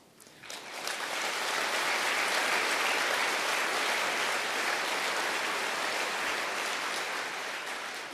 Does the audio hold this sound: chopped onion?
no